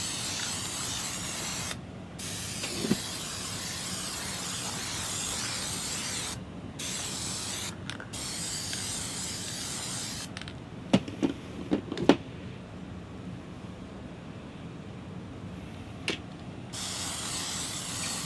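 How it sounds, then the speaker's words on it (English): Gorilla Glue contact adhesive is sprayed from a can onto a rug backing in long, steady hissing bursts with brief pauses between them, plus a few small clicks and knocks, close and moderately loud. "You do want to spray both sides as you're doing this."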